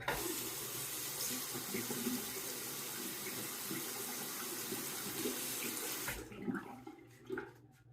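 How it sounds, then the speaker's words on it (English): A travel shaving kit is rinsed under a running tap, water splashing steadily for about six seconds before the flow stops and a few drips and clinks follow. "I'm going to rinse this."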